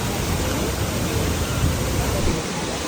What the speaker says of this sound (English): Yeah, little baby waterfalls right there.